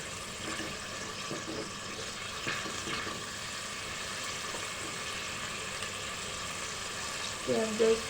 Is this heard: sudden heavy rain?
no